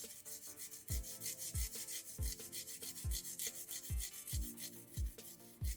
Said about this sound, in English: what we want to do is we want to grate in some garlic